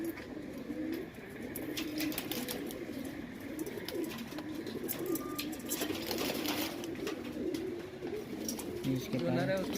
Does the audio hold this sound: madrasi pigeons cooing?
yes